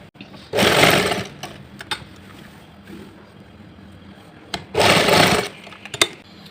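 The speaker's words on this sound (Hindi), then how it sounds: "यहाँ पर हमने कपड़ा और अस्तर को इस तरह से अंदर की ओर ऐसे फोल्ड कर लिए और ये सिलाई लगा लेंगे।" A sewing machine stitching the hidden lining of a salwar, with two loud bursts of fast whirring stitching separated by a quieter stretch of handling noise.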